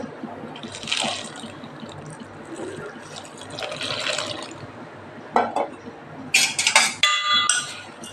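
Biscuit powder and milk are stirred together in a bowl for a biscuit cake, giving soft wet swishes and a few sharp spoon clinks against the container near the end, close and fairly quiet.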